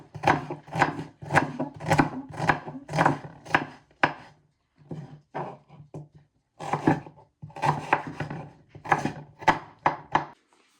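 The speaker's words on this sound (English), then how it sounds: "Okay, so just cut them" Purple onions chopped with a knife on a cutting board in a home kitchen, a fast run of crisp, evenly spaced chops that pauses briefly, then resumes in quicker bursts, close and distinct with no talking.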